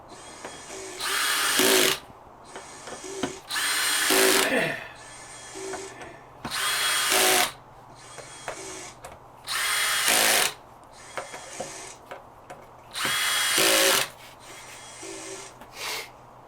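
A power drill snugs down fasteners while assembling a Miller Marine fillet table, giving five or six loud whirring bursts of about a second each, separated by brief quiet gaps with faint handling noise.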